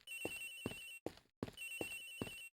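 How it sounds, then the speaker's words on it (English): A telephone rings in the video game Ace Attorney Investigations, bright repeated electronic trills in short bursts, interrupted by a brief gap before resuming, clear and alone. "It's ringing from somewhere, sir!"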